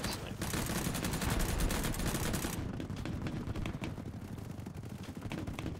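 Rapid automatic gunfire from the shooter game Battlebit rattles in a dense, loud burst, then fades to scattered distant shots and ambient game noise.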